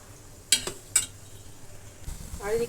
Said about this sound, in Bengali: চিত্রকূট ভাজা চলছে